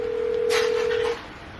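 A single steady telephone dial tone sounds for about a second, close and clear, with a brief burst of noise over its middle, then cuts off to quiet room background.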